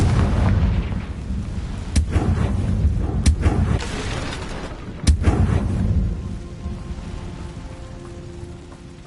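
Confringo explosive spell in Hogwarts Legacy gameplay, a few sharp blasts over a dense rumbling crackle of combat effects, loud and close, fading to a softer hum toward the end.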